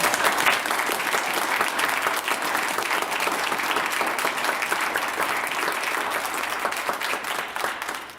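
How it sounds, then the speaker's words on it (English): Steady, dense applause from a large audience at a musical Kabbalat Shabbat service, loud and sustained for the whole stretch, with no voices standing out. "Can we give them a big round of applause?"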